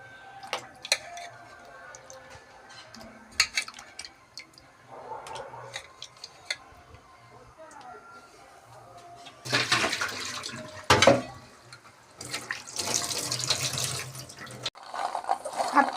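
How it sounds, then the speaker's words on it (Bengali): Water splashes and pours into a cooking pot as potatoes are added for boiling in a home kitchen, with louder bursts of running water toward the end after quieter clinks and handling. "জল দিয়ে দিচ্ছি এবার আলুগুলো এর মধ্যে দিয়ে দিই"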